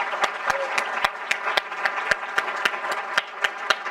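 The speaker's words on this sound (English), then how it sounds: "Let's have another round of applause for Communities First" Audience at an annual community gala applauding, with steady, fairly sparse claps in an even rhythm, close and clear, without voices.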